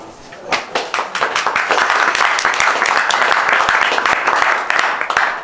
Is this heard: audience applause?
yes